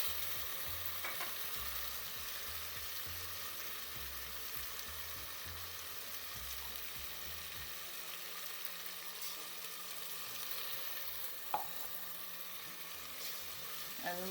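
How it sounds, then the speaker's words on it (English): Ground masala curry paste with a little water sizzles and fries in a pan over medium flame for a stuffed snake gourd curry, a soft steady crackle with occasional scrapes and stirs of a spoon. "now you keep frying the masalas for 6 to 7 minutes"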